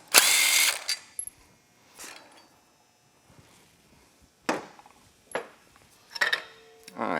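A power tool backs out the six 10 mm bolts from the outer plate of a Polaris clutch. It comes in short, sharp whirring bursts with quiet gaps and small metallic clinks between them.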